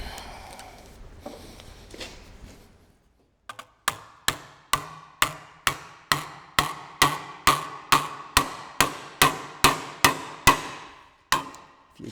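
A hammer dimples a Maserati Mistral body panel in a run of about eighteen sharp, evenly spaced metallic strikes, close and distinct, following a quiet pause with faint background noise.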